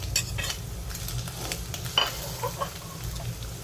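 Chicken pieces for pancit bihon cooking in a pan with onion and garlic, a steady soft sizzle with scraping stirs and a few light clinks of utensil on metal.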